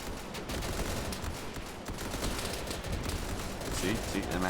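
Battlefield explosions and dense gunfire fill a World War II-style fight in the video game Easy Red 2, a continuous loud roar of blasts and rattling shots with no clear pauses.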